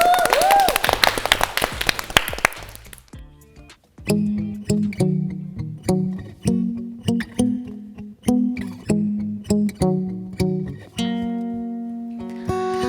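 A studio audience on a Korean music talk show claps and cheers for a few seconds before a song starts, after which punchy rhythmic music with sharp percussive hits takes over.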